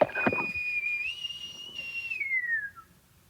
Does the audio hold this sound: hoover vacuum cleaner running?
no